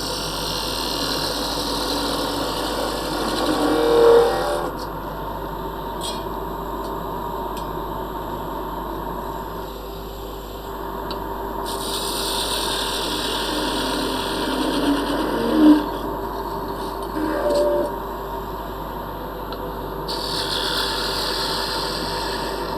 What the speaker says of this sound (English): Yes, it's a lathe